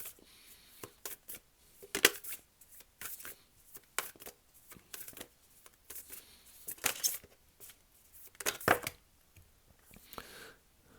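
Tarot cards are shuffled in irregular bursts of riffling and slapping, with crisp papery flutters and sharp taps scattered across a quiet room and no voices.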